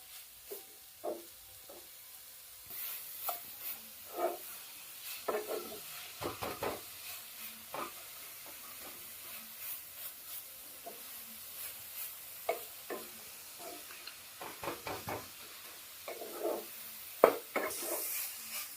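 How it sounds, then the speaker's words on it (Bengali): Coconut filling for patisapta, cooked with date-palm jaggery, gets stirred in a pan, giving quiet, scattered scrapes and soft knocks of a spatula over a faint low sizzle. "নেড়ে চেড়ে আগে নারকেলে সেইটা তৈরি করে নিতে হবে"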